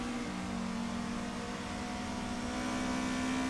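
Car engine in a sim racing video game, a steady droning whine that rises slightly in pitch, even in loudness, with no talking.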